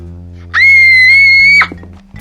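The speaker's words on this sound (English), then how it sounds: "Dewey notices it and literally screams" A boy screams in shock, one loud, sustained high-pitched shriek lasting about a second that cuts off abruptly, alone over a low steady background hum.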